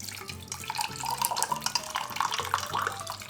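Water pouring and splashing in a kitchen during a food-hack test, a continuous running, spattering flow with small irregular splashes and drips, close and moderately loud with no voices.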